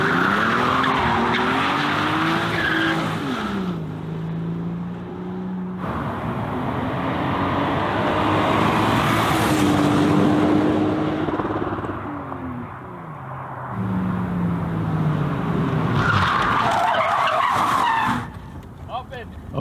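A McLaren 720S supercar revs hard and accelerates away, its engine note climbing and falling through repeated gear pulls, with tire squeal and skidding mixed in. The sound stays loud and close for the whole run.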